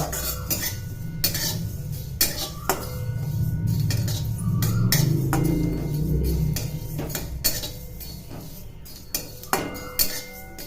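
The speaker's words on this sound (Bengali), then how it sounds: "এটাকে আমি ভালোভাবে এইভাবে শুকনো খোলায় আমি ভেজে নেব" Two small cardamom pods and a spoonful of fennel seeds are dry-roasted in an oil-free pan, with repeated metallic clinks and scraping as a utensil stirs them close by, and no speech.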